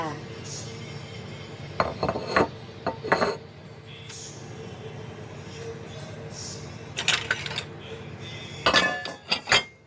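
Cups, dishes and cutlery clatter and clink in bursts as they are washed, against a steady background of running water or kitchen noise, with quieter gaps between the clusters.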